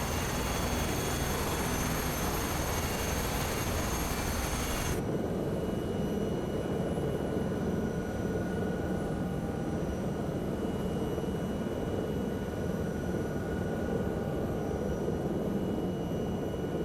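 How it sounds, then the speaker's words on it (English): A continuous, dense Huey helicopter rotor and engine roar in Microsoft Flight Simulator 2024 fills the whole stretch, loud and steady with no talking. "You can hear the Huey as well."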